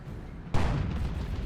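Plasma cannon firing in the Dawn of War 2 strategy video game, one sudden loud blast over a low rumbling battle background, its roar sustained and fading slowly with no talking.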